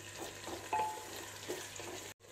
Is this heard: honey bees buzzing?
no